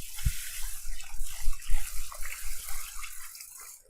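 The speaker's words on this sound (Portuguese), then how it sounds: "A gente começa colocando bastante água." Tap water runs steadily into a bowl of rice being washed, a close, splashing and gurgling stream that tapers off near the end.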